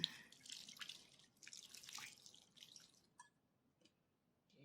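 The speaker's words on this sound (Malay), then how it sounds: "Okey, kita masukkan air ya." Water poured into a pot while cooking spicy Perak-style beef rendang, a splashing, trickling pour with brief drips toward the end, close and fairly faint, with no talk.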